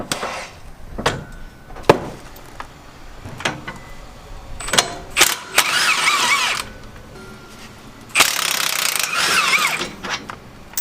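Ratchet clicks and metallic clanks in bursts while brake calipers and rotors come off a Nissan 350z track car, with sharper spinning whirs of a tool partway through, close and alone.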